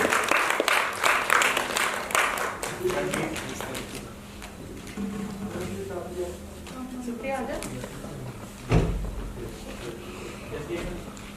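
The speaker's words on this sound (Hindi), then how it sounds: "जोरदार ताली बजाइए" Theatre audience applauding at a play festival, dense clapping that swells at the start, fades under someone speaking, and carries on beneath his voice.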